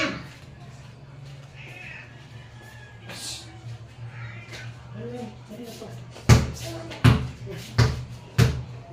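A cat meows a few times indoors while people talk in the background, followed near the end by four loud, sharp thumps like a ball bouncing.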